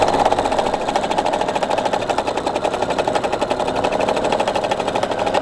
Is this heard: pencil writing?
no